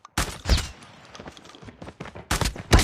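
Shotgun fire in a video game on the Alcatraz map: several loud, close blasts in quick succession, with a short gap of softer rattling between the first and last shots.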